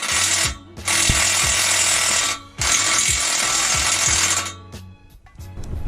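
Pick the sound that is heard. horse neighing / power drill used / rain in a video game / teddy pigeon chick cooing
power drill used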